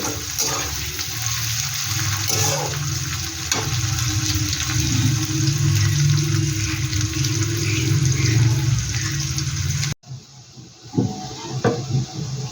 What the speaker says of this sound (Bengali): পেঁয়াজের সাথে আলুটা আমি একসাথেই ভেজে নেব।